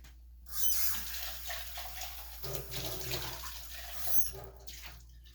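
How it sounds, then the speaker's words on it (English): Diluted milk and warm water are poured from a cup onto yeast in a kitchen, making a soft splashing trickle that swells, eases and ends after a few seconds, with faint clinks. "I'm going to pour that right on top of that yeast"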